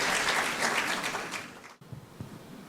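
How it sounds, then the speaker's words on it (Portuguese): An auditorium audience at a rural congress panel applauds a panelist, broad steady clapping that fades out midway, followed by faint scattered sounds and a brief murmur. "Auditório, aplaude o painelista."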